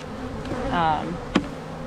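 Honey bees buzz steadily around freshly made hive splits, a close, continuous droning hum that swells briefly in the middle, with one sharp knock near the end.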